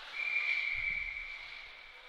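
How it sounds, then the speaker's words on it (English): A referee's whistle blows once in a long, steady shrill tone during a youth ice hockey game, with faint rink noise and a brief low thump beneath it. "Whistle blows."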